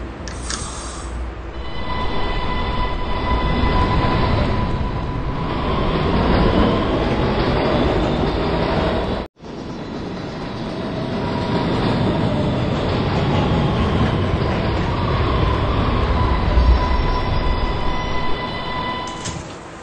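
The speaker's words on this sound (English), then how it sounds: "This is a Potatoburg-bound B train." B subway train running through a tunnel, a loud, steady rumble with rattling wheels that cuts out for an instant midway, then resumes for the rest of the run, with no talk.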